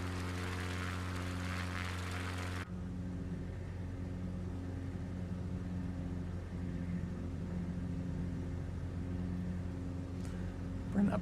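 A propeller aircraft engine in Microsoft Flight Simulator 2024 drones steadily and evenly throughout. Its tone drops slightly and becomes quieter after the first few seconds.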